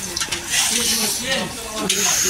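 Food cooks in a pot at an outdoor picnic near Kolkata as it is stirred, giving a close, hissing sizzle with scraping stir sounds, and voices can be heard nearby.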